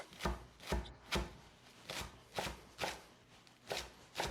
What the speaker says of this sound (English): 1 bunch of cilantro. Go ahead, give it a little slice up.